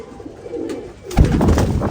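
Rampuri cross pigeons coo close by, a soft low murmur at first, then a louder burst of cooing and rustling joins in partway through.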